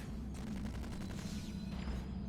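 Propane tank blowing up in the Star Trek Online ground mission, a burst of rapid, crackling blasts followed by a rumbling boom, fairly faint and heard alone without talk.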